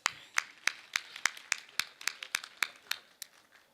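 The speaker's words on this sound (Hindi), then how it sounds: "मैं एक बार तालियां उनके लिए चाहूँगा।" At a Hindi kavi sammelan poetry gathering, a sparse handful of claps rings out in a slow, steady rhythm, about a dozen crisp separate hits, fairly faint and with no talking.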